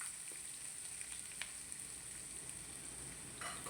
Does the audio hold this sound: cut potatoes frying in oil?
yes